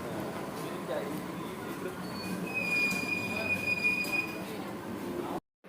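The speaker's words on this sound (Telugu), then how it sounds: "ఇంకా ట్రైన్ వచ్చిందండి." A train pulls into Kakinada station with sustained high-pitched wheel squeal over a steady rolling rumble. Platform noise runs underneath, and the sound cuts out abruptly near the end.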